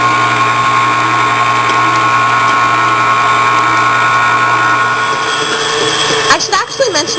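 An electric hand mixer whirs steadily as it beats three egg whites with a quarter teaspoon of cream of tartar, a loud, even motor drone that holds throughout before some clatter and shifting near the end.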